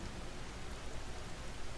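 Rain falls over an outdoor landscape as a soft, steady hiss, fairly quiet and unbroken, with no one talking.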